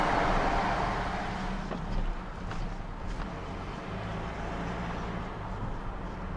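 Cabin road noise in a SsangYong Rexton Sports pickup fitted with AT all-terrain tires, a steady low rumble and tire roar that continues evenly at moderate level with no talking.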